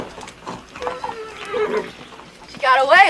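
Horse whinnying in a western setting, a short loud neigh near the end following quieter snorts, with people talking nearby.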